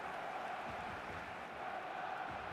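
Steady roar of a football stadium crowd in a video game before the players walk out, a dense, constant wash of massed voices at even loudness throughout.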